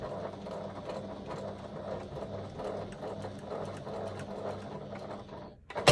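A sewing machine runs steadily, stitching a fabric ring holder with a fast, even mechanical chatter that continues for several seconds before stopping with a brief clunk.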